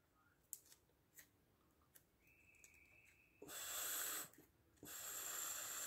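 Short scissor snips cutting material into small pieces sized to wrap around the tip of a valve during a cylinder head refurbishment, a few quiet clicks followed by two louder, longer cutting sounds close up.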